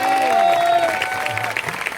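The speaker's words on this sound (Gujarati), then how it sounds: "જોરદાર તાળીઓ નાથી વધાવીએ।" Brief burst of audience applause at a religious discourse during a Dwarka pilgrimage, with a sustained tone and a voice carrying over the clapping.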